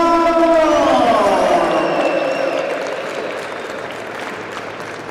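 Home crowd at a Calgary tennis challenger tournament applauding and cheering a Canadian player's introduction, loud sustained clapping with whistles and cheers that gradually fades, no talk over it.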